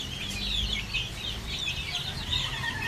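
Backyard chickens clucking in a steady flurry of soft calls, fairly close, with a low rumble of background noise underneath and no talk.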